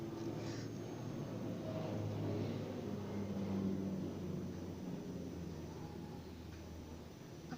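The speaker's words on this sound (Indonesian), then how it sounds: "Sorry, ada suara pesawat gitu." An airplane passes overhead, heard as a low, steady broadband rumble that swells slightly mid-way and fades gently, distant and muffled indoors with no talking.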